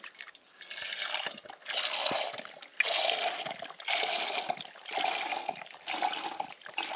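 Water is poured in several separate bursts into a Soto camping stove pot at a tarp camp on the North York Moors, each pour a close, splashing trickle with short pauses between.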